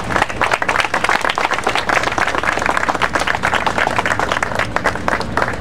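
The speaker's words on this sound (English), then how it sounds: "Let's give them a round of applause" Crowd applauding at an outdoor city council event in a park, steady dense clapping from many people held at an even level throughout.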